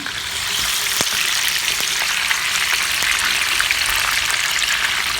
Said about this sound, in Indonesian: Jadi kita goreng dulu tahunya.